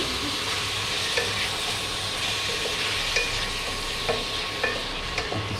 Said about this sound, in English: I'm dropping in some carrots.